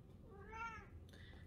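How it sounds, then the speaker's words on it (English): A house cat gives a single clear meow in a quiet living room, rising and falling over about half a second, fairly close, over a low background hum. "There comes my cat."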